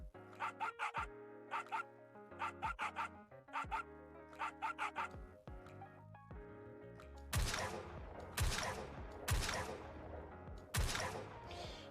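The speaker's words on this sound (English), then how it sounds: "he only stops barking when she's loading her gun, and her ears perk up too." A dog in the Nikke video game barks in quick bursts of two or three, close and clear, then gunfire breaks out in several loud, sharp shots.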